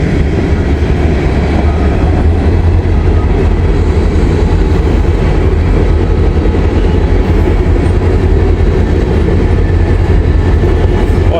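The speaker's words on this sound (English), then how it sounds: "Boy, that's a big train." A freight train carrying coal and grain rolls past close by, a loud steady rumble of wheels on rails with a faint rhythmic clatter throughout, no voices.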